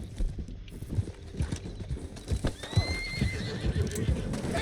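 In Red Dead Redemption 2, a horse whinnies loudly while hooves clip-clop irregularly nearby, with rumbling movement and scattered thuds around it.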